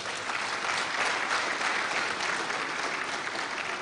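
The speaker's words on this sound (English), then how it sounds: "Let's clap for him for that." A crowd at an online e-learning event claps steadily for a few seconds, an even wash of applause with no break and no voices on top.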